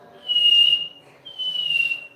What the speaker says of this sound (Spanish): lo que hago es chiflar